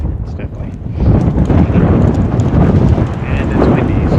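Strong wind buffets the microphone outdoors during early season shed hunting, in a steady, low roar that swells after the first second and stays loud throughout.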